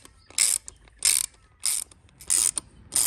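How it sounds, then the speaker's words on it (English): Five short bursts of ratchet clicking come in even strokes, close and crisp against near silence, as a ratchet cranks a valve spring compressor on a Barra engine head. "got our ratchet. Now we'll start cranking it up"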